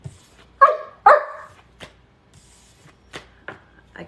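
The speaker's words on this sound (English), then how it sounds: "I can't even talk to her because she's just going to bark back if I say anything to her" A dog gives two loud, close barks in quick succession, followed by several fainter scattered clicks and thumps in an otherwise quiet room.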